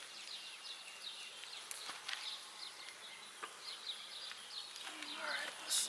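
Honey bees buzz at an open hive during a hive check, their drone close and steady with sharper passes as individual bees fly near, and a few faint bird chirps in the background.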